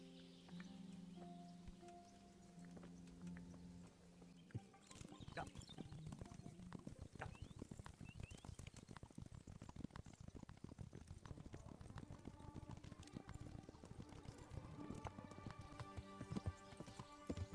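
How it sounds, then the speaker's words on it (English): Horse hooves clip-clop in a steady walking rhythm in the video game Kingdom Come, starting after a quiet musical opening and continuing loudly to the end. "Now there's the horse"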